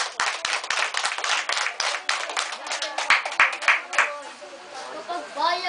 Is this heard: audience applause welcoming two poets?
yes